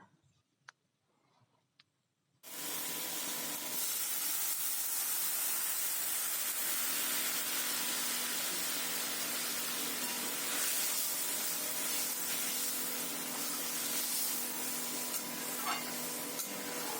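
A bowl of water is poured into a hot pan of fish curry gravy, which erupts abruptly into a loud, continuous steaming hiss and sizzle that holds for many seconds after a short quiet start with faint clinks.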